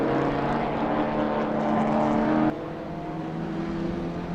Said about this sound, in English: With the rotary of Stig Richards howling behind